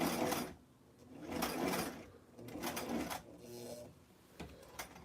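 A hand-cranked sewing machine stitches a tiny vintage 1963 Barbie square dancing outfit in short, rhythmic bursts of clattering, separated by quiet pauses, close and fairly soft.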